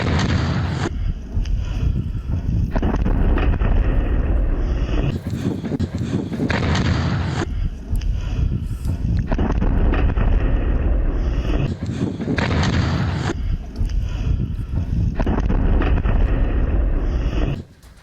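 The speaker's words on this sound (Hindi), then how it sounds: "ये आप सुन रहे हैं जो धमाका हुआ है चर्च के पास हुआ है।" Explosions near a church in Kharkiv come as loud, heavy, rumbling blasts in repeated surges, with wind buffeting the microphone throughout.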